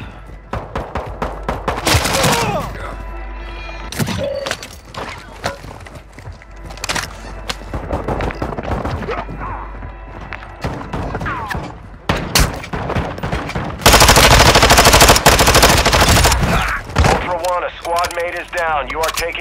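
Gunfire in Call of Duty Warzone on Ashika Island: repeated bursts of automatic fire and single shots, loud and close, with a heavy sustained barrage near the end and radio voice chatter in between.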